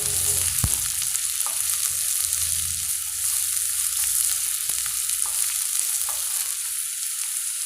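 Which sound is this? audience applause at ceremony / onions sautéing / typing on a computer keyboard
onions sautéing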